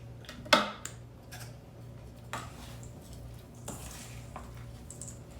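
A wooden spoon stirring a sticky honey mixture in a bowl, with a sharp knock near the start followed by soft intermittent scrapes and clicks, quiet and close.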